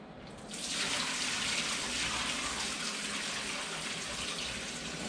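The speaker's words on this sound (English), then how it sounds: "If I just pour it, water will come out, but you want to break the siphon by hitting the button here." Water gushes steadily from a Thetford 365 cassette toilet tank, starting after a brief pause and pouring continuously at close range, loud and broadband with no talking.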